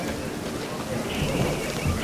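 Steady hiss of rain falling in The Witcher 3: Hearts of Stone, a constant even wash of ambient noise throughout with faint voices underneath.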